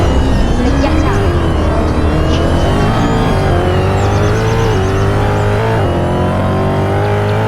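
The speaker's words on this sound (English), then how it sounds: "I'm driving a Mercedes S65" A Mercedes S65 engine driving in the game Redwood County, a loud, steady motor hum with gradual pitch shifts as it accelerates and shifts, plus faint tire noise throughout.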